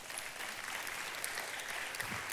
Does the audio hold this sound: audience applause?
yes